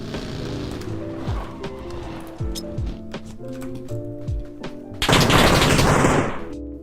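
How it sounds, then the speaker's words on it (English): Gunfire in a battle royale video game comes as scattered sharp shots and short bursts over engine-like drones from an approaching buggy, followed by a loud noisy blast near the end. "I managed to dodge numerous shots."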